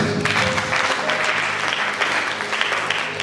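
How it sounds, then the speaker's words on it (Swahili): A church congregation at a Sunday service claps together for Jesus, a dense, loud, steady burst of applause filling the room throughout. "Pigia Yesu makofi"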